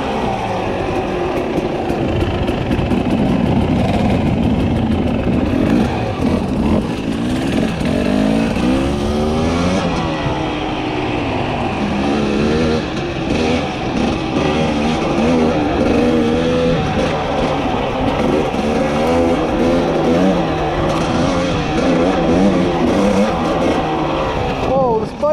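2021 Husqvarna TE300i dirt bike pulling in third gear on a group ride, its loud engine revving and lugging continuously up close, with a rider talking over it.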